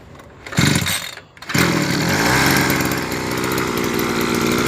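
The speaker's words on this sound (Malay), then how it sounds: "Start engine." A small petrol engine on a pesticide sprayer pump, fitted with a new bearing, is pulled over twice with short sputters and then catches, settling into a loud, steady buzzing idle close by.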